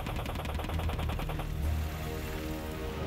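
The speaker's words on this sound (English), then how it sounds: "This is the Bushmaster 30mm chain gun." An Apache helicopter's Bushmaster 30mm chain gun firing a rapid, evenly spaced burst of heavy shots that stops partway through, followed by a lingering rumble.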